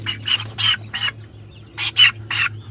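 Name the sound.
chickens let out of the coop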